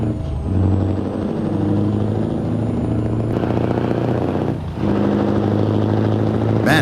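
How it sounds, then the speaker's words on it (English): Another truck's engine in Euro Truck Simulator 2, on a drive north through Sweden, rumbles steadily and close with a deep, sustained tone, a brief dip near the end before it resumes, with no talking. "Man, his truck sounds good."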